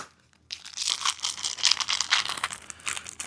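Box-of-bolts packaging being cut open for a hydraulic barber chair assembly, heard as close crinkling and tearing of plastic and cardboard that starts after a brief quiet pause and keeps going in irregular rustling bursts.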